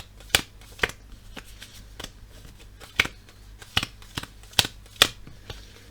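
Playing cards being handled and counted out for a replay basketball game, a run of crisp, sharp card snaps and flicks at an uneven pace, close and fairly quiet.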